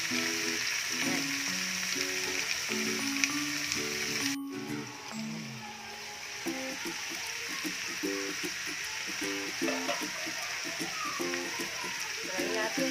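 Squid simmering in coconut milk in a pan gives a continuous bubbling sizzle, with stirring noises and tonal music or voice running over it throughout.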